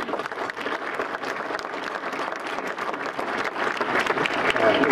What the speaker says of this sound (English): Excellent feedback. Round of applause.